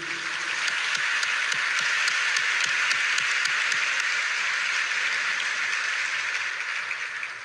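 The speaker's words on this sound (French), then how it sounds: "On encourage monde de bien avec un gros applaudissement solidarité" A crowd applauds in solidarity during an address by a former president, a long, loud, even roar of clapping with a few sharp individual claps standing out, holding steady before easing slightly at the end.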